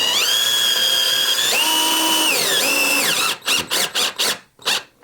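A power drill drives screws into a ceiling beside a light fixture's mounting bolt: a sustained whining motor that shifts pitch as it loads, then a run of short loud bursts as the screw seats.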